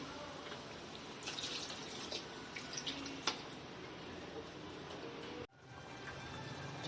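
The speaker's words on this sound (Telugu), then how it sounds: "కొంచెం వాటర్ పోసుకుందాం." Water, with a little tamarind water, is poured into a pan for an egg pulusu, giving a soft, steady trickling wash with a few faint clinks; it cuts off abruptly near the end.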